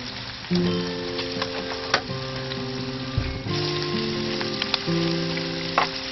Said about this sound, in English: That noise is this smoker starting to warm up slowly